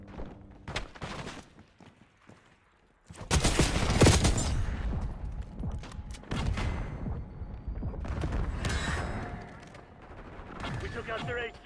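Heavy gunfire in a Call of Duty: Black Ops multiplayer match, loud bursts and rattling automatic fire that erupt after a quiet opening and continue with scattered shots and booms.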